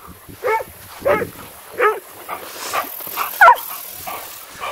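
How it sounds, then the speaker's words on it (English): Several dogs barking by a lake, a series of sharp yips and barks at irregular intervals, fairly close, with a whimper or two between them. "Crazy dogs."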